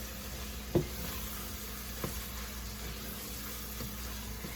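Quiet stirring of black pepper into a Haitian beef patty filling in a pan, a low sizzle running throughout with a few soft spoon scrapes and taps, the sharpest near the start.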